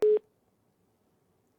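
A telephone line drops during a live call, followed by a single short tone burst that stops abruptly and gives way to near silence.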